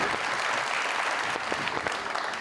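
A studio audience at a television talk show claps, a brief burst of steady, dense applause lasting a couple of seconds with no talking over it.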